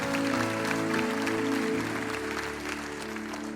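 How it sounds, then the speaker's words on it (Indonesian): Congregation applause at a worship night, steady clapping over sustained music that gradually eases off. "Boleh kita beri tepuk tangan yang terbaik."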